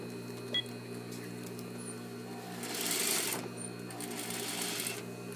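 A sewing machine stitches a seam on a shirt-dress in a steady, continuous hum with a fast motor buzz. The sound swells briefly in the middle, with a faint beep near the start and soft voices in the background.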